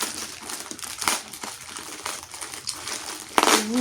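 Plastic packaging around an outdoor rug crinkles and crunches as it is torn open by hand, a steady run of close rustling ending in a louder rip near the end.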